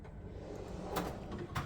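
A kitchen drawer full of utensils in a Qatar hotel apartment slides open quietly, with a soft rumble and two brief scraping clicks close by, no voices.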